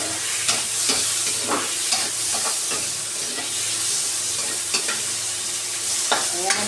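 Food sizzles in a frying pan as it is stirred, a continuous close hiss broken by repeated scraping and tapping strokes of a spatula at an uneven pace.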